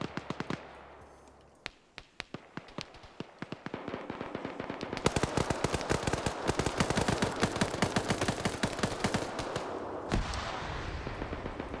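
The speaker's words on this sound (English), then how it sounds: "BTR now up here suppressing various areas, taking some retaliatory fire." Sustained gunfire in a Cold War era military video game as a BTR armored vehicle lays down suppressing fire, dense rapid bursts of shots that grow heavier and nearly continuous, loud, with no voices.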